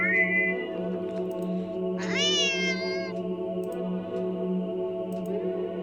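Eerie, distorted cat vocalization from a horror video game: a short high meow, then a longer warped, wavering yowl in the middle over a steady low drone and faint ticking.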